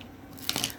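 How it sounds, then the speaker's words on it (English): A couple of quick, quiet crunches close by, a dog's teeth gnawing on a bone, after a moment of near silence. "my dog is under my chair with a bone."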